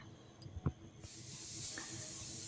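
Chopped tomato and garlic dropped into hot oil for a Bengali dim aloo jhol, a few soft clunks then a steady bright hiss of sizzling that swells and holds, fairly quiet and close.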